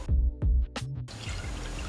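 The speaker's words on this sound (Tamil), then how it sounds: "டம்ளர் அளவுக்கு தண்ணி ஊற்றிக்கலாம்." Water is poured into a cooking pot holding washed chana dal for a snake gourd kootu. A few distinct drips give way to a steady, close pouring splash.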